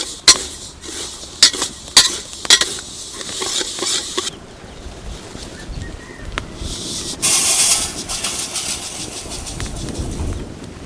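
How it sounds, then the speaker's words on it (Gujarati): Sesame seeds being stirred and roasted in a pan for til ladoo, with a few sharp scraping clinks at first, then a soft continuous sizzle and rustle close by. "થોડી બ્રાઉન કલરની થાય ત્યાં સુધી આપણે આને હલાવતા રહેવાનું છે।"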